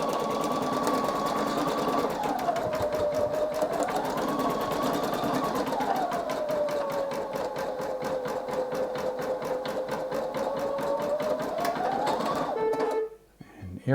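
A Singer EM9305 embroidery sewing machine stitching steadily with a rapid mechanical rattle and a whining motor tone that shifts pitch, close and continuous until it stops near the end.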